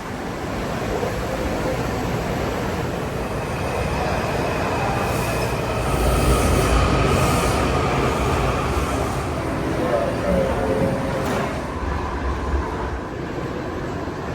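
Metro train in a Washington DC station, a continuous loud rumbling roar of rolling cars with high wheel squeal and screech building in the middle, while people talk faintly underneath.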